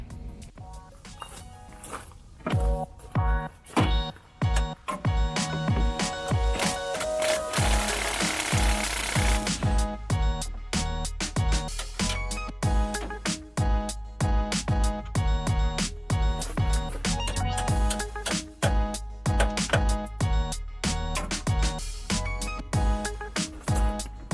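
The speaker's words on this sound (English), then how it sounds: "we're going to use the torque wrench to work smarter, not harder, to take all these bolts out" Rapid hammering rattle of an impact-style wrench removing bolts from a steel front bumper on a Land Rover Discovery 1, loud repeated bursts in quick succession that run almost without a break after a quieter start.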